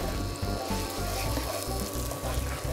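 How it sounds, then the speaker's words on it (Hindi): Ginger garlic paste sizzles in a pan with fried onions, a loud, close, continuous crackling hiss with faint stirring scrapes and a low pulsing rumble underneath. "उसमें डालेंगे जी अदरक लहसुन पेस्ट।"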